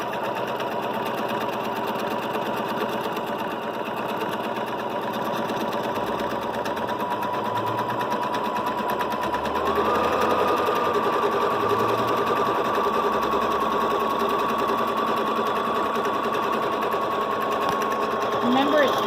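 A sewing machine runs steadily on a Grace Cutie quilting frame, stitching a quilt with a continuous whirring drone that shifts pitch partway through as hand speed changes, close and loud throughout.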